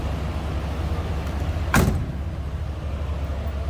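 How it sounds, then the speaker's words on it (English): A 1970 Buick Electra 225 Custom convertible door swings shut with one solid, close thump over a steady low background hum. "Door closes nicely, fits well."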